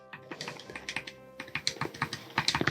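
Buttons pressed one after another on an Ayaneo Pocket Evo handheld gaming device, a close series of light, quick clicks in an uneven rhythm with no talking.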